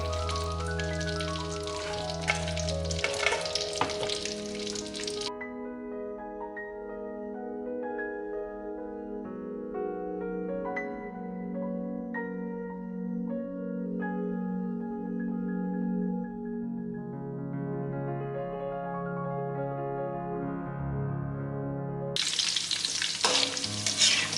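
Chilies frying in oil in a wok, sizzling and crackling loudly at the start and end, with a steady tonal hum and ringing overtones filling the quieter middle stretch.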